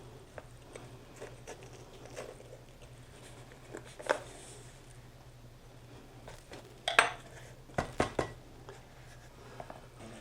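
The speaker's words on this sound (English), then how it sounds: "what I've been doing is I'm cutting away from myself, rotating the chili, keeping that blade pointed away from me." A knife slicing a poblano chili on a cutting board, quiet scraping and a handful of sharp taps and knocks, clustered near the end, close and sparse, over a low steady hum.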